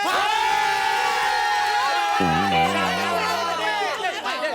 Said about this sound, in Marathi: रोख रुपयावरतीच कसला जल्लोष करता